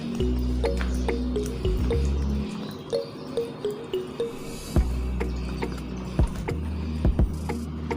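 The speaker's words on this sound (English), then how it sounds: "So pour in some of the egg" Egg poured into a bowl of batter while preparing a party recipe: soft wet splats and drips, with scattered light clicks and knocks from the bowl, fairly quiet and close.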